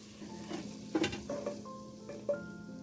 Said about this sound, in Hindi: और अब इस तरफ से भी इसको 3 मिनट्स तक अच्छे से फ्राई कर लेंगे।